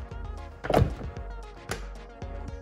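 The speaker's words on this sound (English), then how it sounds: "They are soft closing doors." Soft-closing doors on a 2004 Mercedes-Benz S600 5.5 twin-turbo, giving a few muffled thunks and latch clicks at close range, one heavier closing thud standing out among quieter mechanical catches.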